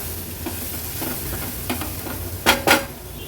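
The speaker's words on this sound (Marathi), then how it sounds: "हळद आणि मसाला पण वाटणासोबत व्यवस्थित आपल्याला परतून घ्यायचा आहे।" Turmeric and Agri Koli masala sauté with a ground spice paste in a pan, making a low sizzle under scraping stirs, with two louder utensil clanks near the end.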